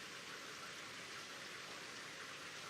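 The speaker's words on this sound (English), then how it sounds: "The rain pours harder." Steady rain pours in a video game scene, a soft, even wash of rainfall noise that runs unbroken and fairly faint with no voices over it.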